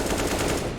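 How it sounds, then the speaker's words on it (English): AK rifle fire in a Counter-Strike esports match, a short, dense run of rapid shots lasting under a second. "Nice AK headshot pick near mid."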